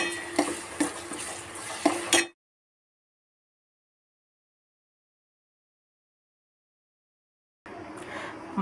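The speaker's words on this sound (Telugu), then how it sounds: "తర్వాత అల్లం వెల్లుల్లి పేస్ట్ 1 స్పూన్ వేసుకొని ఫ్రై చేసుకోవాలి" Onions with ginger garlic paste fry in a pan for a mushroom curry, with rhythmic spoon scrapes and stirring over a soft sizzle. The sound drops into a long silence, then the stirring resumes briefly.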